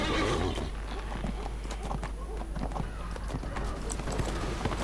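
A horse in the online game Neverwinter gallops with quick, regular hoof clip-clops and whinnies, the repeated hoofbeats in front and a voice talking under them.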